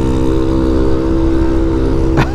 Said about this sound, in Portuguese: E passa uma moto barulhenta